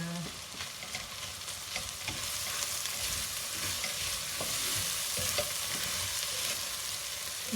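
Bolognese sauce with parsley, oregano and basil being stirred in a sticking pan, a continuous sizzle under repeated scraping strokes of the spoon, close and steady.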